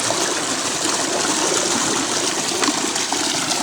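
A clean, shallow creek full of snails runs steadily close by, a continuous rushing and trickling water sound with no talking.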